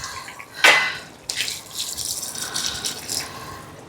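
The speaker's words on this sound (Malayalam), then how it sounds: "ഏകദേശം വീണ്ടും ഒരു 2 കപ്പ് വെള്ളം കൂടി ഒഴിക്കുന്നു" About two cups of water splash and gush into a pot of mutton curry in a couple of bursts, a steady pouring rush with a brief clatter, close and fairly loud.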